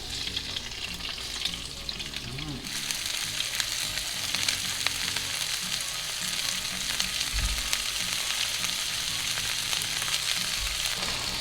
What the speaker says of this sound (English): Now you got your oil heated up, medium heat. Just gonna go ahead and throw them on there.